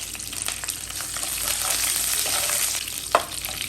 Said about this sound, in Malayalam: ആ എണ്ണ ഒന്ന് ചൂടായി കഴിയുമ്പോഴത്തേക്ക് നമുക്ക് കുറച്ച് കറിവേപ്പില ഇട്ട് കൊടുക്കാം